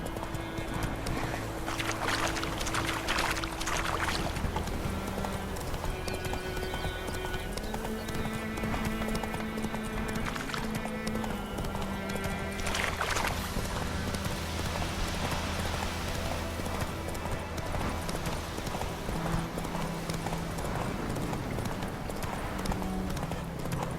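The horse Roach gallops in The Witcher 3, its rapid hoofbeats drumming steadily throughout over a bed of game music.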